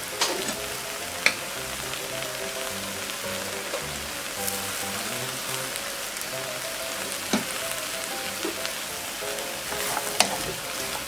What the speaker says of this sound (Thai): ให้เราใส่น้ำซุปลงไปนิดนึงนะคะน้ำซุปเราก็ทำเองนะคะ